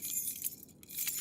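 A bunch of house keys jangles briefly and close by, a quick bright metallic jingle lasting about a second with a couple of clinking accents.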